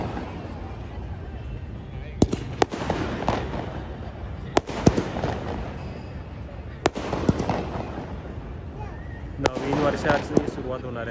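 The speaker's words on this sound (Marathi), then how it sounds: "अगोदरच हे फटाके वाजवायला चालू केलेले" Firecrackers set off outdoors on a hazy evening, with sharp bangs scattered irregularly every second or two, some near and loud and others farther off, over crowd noise and people talking.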